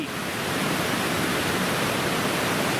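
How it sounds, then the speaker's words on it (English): Brewer Creek on a Glacier Ridge trail, a creek crossed on foot at dawn, rushes in a steady, loud broadband wash of flowing water, close by and unbroken, with no voices. "So I guess this is Brewer Creek."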